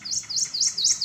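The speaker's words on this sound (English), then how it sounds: "Some of our birds are making noises." A bird chirps rapidly in a repeating series of high, bright notes at a bayou boardwalk, close and clear, with no talking.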